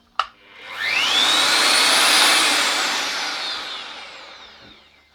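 A Bosch GWS 26-230 LVI angle grinder switches on with a soft start: a click, then a high whine that rises smoothly over about a second, holds loud and steady, and slowly winds down as it coasts.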